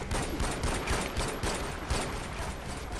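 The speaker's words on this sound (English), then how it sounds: "But now I've got the big guy shooting at me." Enemy gunfire in the shooter Far Cry 4, a dense, loud burst of rapid shots rattling continuously for a few seconds.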